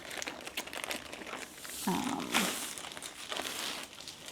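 Packaging of a DAC fantasy mystery craft kit is torn open by hand: close, continuous crinkling and rustling, with a louder ripping burst midway, then more crackling.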